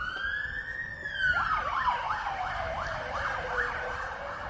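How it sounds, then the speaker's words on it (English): Ambulance siren wailing at a cricket ground at Marion, rising then sweeping in repeated up-and-down cycles, fairly loud and alone over light background noise. "Ambulance number 2 for the day here at Marion."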